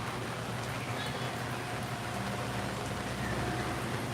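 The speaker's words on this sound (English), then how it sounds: "And it's raining a whole lot." Steady rain patters as a broad, even hiss with a low rumble underneath, continuous and moderately loud throughout, falling on an amusement park.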